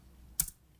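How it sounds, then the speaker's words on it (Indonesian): A single close, crisp key click on a computer keyboard while typing code, with a quiet pause around it. "Sekarang kita ketikkan kode sebagai berikut."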